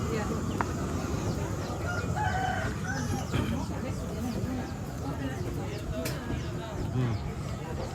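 Village chickens clucking and a rooster crowing at a Toraja traditional house-building gathering, heard in the background under constant chatter and voices from people nearby.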